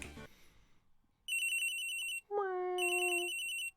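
An old-style electronic cell phone in Phoenix Wright: Ace Attorney rings in two bursts of high, warbling electronic tones, the second preceded by a sliding chime, loud and alone after a brief noisy start.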